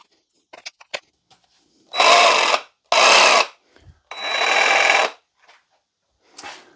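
Stanley FatMax V20 cordless reciprocating saw cutting dense wood held in a vise: three loud close bursts of buzzing sawing, each one to two seconds, separated by quiet handling knocks and clicks.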